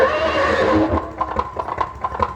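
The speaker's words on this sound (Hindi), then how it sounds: "घोड़ा साला बहुत तेजी में जा रहा है।" A horse gives a loud, close whinny, then rapid hoofbeats follow in a quick, even clip-clop rhythm as it runs.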